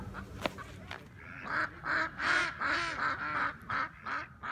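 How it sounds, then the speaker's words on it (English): Geese at a lake honk repeatedly in a loose rhythm, several close, loud calls following one another with a few softer squawks between them and no talk over them. "geese is trying to steal my worms and my fish right here"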